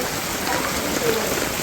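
Rain falls steadily in a village, an even, close hiss of drops with no pauses throughout.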